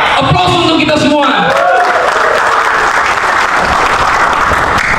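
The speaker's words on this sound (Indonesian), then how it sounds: "Aplaus untuk kita semua" A large training audience applauds loudly, with dense continuous clapping and a few whoops and cheers rising over it, while a voice also speaks at the start.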